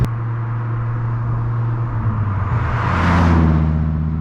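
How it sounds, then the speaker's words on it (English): An 8-liter V10 car engine rumbles loud and close with a steady low drone, then revs up in a rising roar near the end, with no talking. "It's an 8-liter V10."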